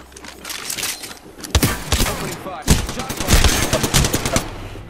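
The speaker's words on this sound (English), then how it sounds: "Oh, it's a fucking fully automatic gun." A fully automatic gun fires in the Apex Legends video game, loud and close. Fast bursts of shots come in several rapid runs with short pauses between them, over a busy game soundscape.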